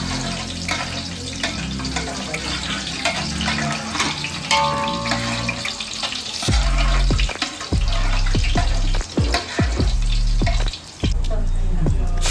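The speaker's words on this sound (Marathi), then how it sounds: "चांगले परतून घ्यायचे लसूणला." Garlic sautéing in oil in a pan for a crab curry, a steady sizzle throughout with several sharper clatters and stirring knocks toward the end.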